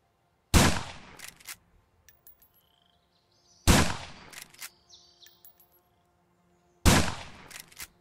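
Three sharp, loud gunshot bursts in the Survive the Nights video game, each a brief cluster of cracks separated by about three seconds of near silence, with faint bird calls in between.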